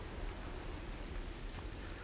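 Steady, soft rain falls as an ambient effect during a tabletop game session, a faint, even hiss with no break and no voices over it.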